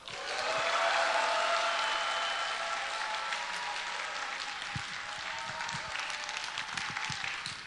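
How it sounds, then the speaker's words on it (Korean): Audience at a Korean church conference on family worship cheers and applauds loudly and steadily, a dense wash of clapping with scattered voices that eases slightly but continues throughout. "할 수 있는 대로 환성을 지르시기도 하고, 박수도 치고요"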